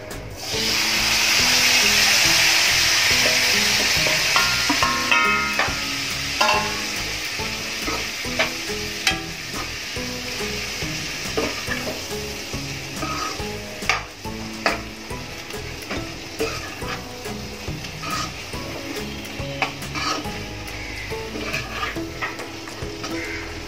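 Cluster beans (gawar) frying in a pan, opening with a loud broad sizzle that settles into steady frying under repeated scraping stirs of a spoon against the pan, close and continuous without talk.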